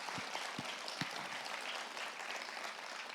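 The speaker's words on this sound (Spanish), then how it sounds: "déle ese aplauso al Señor, porque Él lo merece" Congregation applause during a church sermon, steady broadband clapping from a crowd filling the whole stretch at moderate level, with a few low thumps early on.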